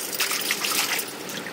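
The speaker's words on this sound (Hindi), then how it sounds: "इसको दो तीन पानी अच्छा से इस तरीके से हाथों से रफ करके धोएंगे" Taro leaves being scrubbed by hand in water to wash off soil, making a close, splashy swishing and sloshing for a second or so before easing off.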